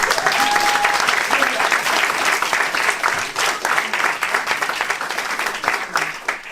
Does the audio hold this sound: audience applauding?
yes